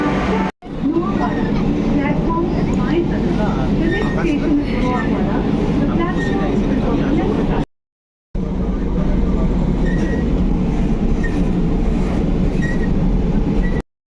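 A Kolkata metro train runs with a continuous loud rumble and rattle, briefly cut twice, while people talk over the noise.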